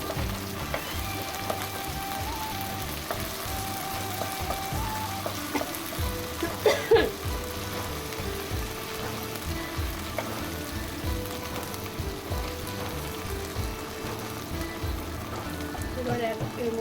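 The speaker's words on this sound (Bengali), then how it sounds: "এটাকে একটু নাড়াচাড়া করে দিই কাঁচা গন্ধটা যাতে না থাকে" Ginger-garlic paste fries and gets stirred in a pan while a pointed gourd and prawn curry is being made. A soft, continuous sizzle runs under a person talking, with a brief clatter of a utensil partway through.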